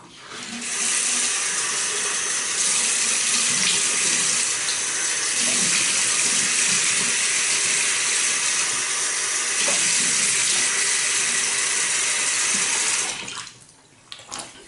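A razor blade rinsed under a running tap during a traditional wet shave, a steady loud rush of water for about twelve seconds before it shuts off, followed by a few small clicks.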